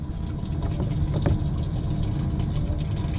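Aerator pump on a 2022 Alumacraft 2052 bass-style boat steadily pushing water into the livewell, a continuous close splashing, gurgling rush over low pump hum with no talk.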